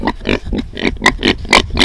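Kunekune pigs, two sows, grunting in a series of short, loud, rhythmic snorts and squeals close by, with no voices.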